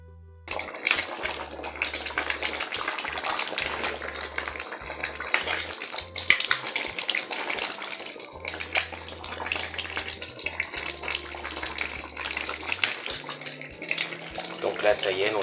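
A pot of potato and beef broth with a stock cube is stirred, giving a steady wet sloshing and bubbling texture with scattered clinks, close and continuous, while a low hum runs underneath.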